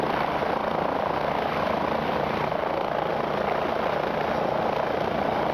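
A helicopter in a flight simulation performs an autorotation flare. A dense, steady rotor and engine roar continues evenly throughout, with no voices.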